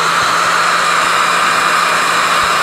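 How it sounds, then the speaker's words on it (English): A hair dryer blows continuously up close, drying watercolor paint, a steady loud whooshing hum with a faint low motor buzz and no voices. "I'm going to use my hair dryer to dry this so I can continue"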